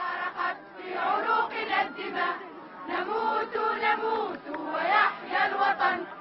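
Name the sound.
crowd at funeral procession in Monastir singing the national anthem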